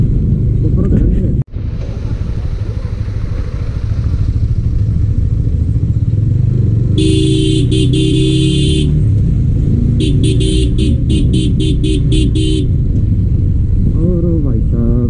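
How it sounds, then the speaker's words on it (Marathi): Dense road traffic of motorcycles and cars on the route to Kedarnath: a continuous engine rumble with two long stretches of car horns honking over it. "ट्रॅफिक म्हणजे एकदम भारी आहे"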